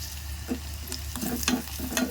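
Food sizzles and crackles steadily in a pan with turmeric and salt while a utensil scrapes and stirs in a few short strokes, close up, with no voices.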